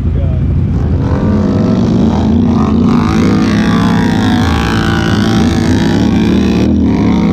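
A Polaris Sportsman 325 ATV fitted with a turbo roars steadily and loud up close as it churns through mud at an off-road park, with some talk under the engine.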